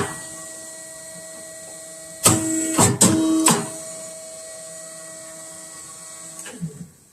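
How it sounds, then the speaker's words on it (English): Round-corner cutting machine trimming photo album pages, a motor humming steadily, then a loud burst of three quick mechanical cuts or thumps close by, another faint clunk toward the end. "We make the round corner cutting."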